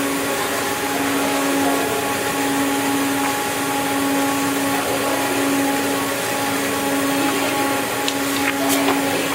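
The carriage of a printing-plate exposure unit travels to its operating position with a continuous, fairly loud motorized whirr and hum that holds steady throughout.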